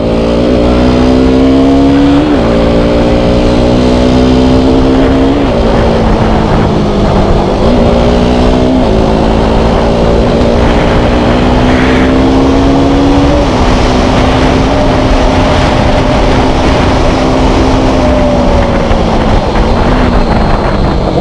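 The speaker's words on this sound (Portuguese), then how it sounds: "Boa saída da moto, né?" A KTM 200 Duke motorcycle accelerates hard through the gears on a test ride, its engine note climbing repeatedly with brief dips at each shift, loud and close throughout with no talk over it.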